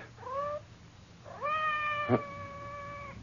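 A cat meows twice outside a door in a radio drama: a short rising cry, then a longer, louder drawn-out meow with a small knock or thump partway through, close and clear over a quiet room.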